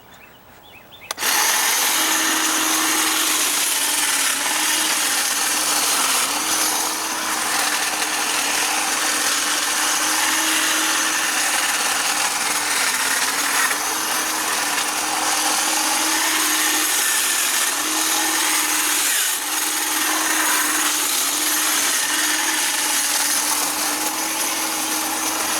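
Dewalt hedge trimmer cutting through holly buzzes loud and steady from start to finish, a continuous close mechanical whine with slight variation as it bites into the branches.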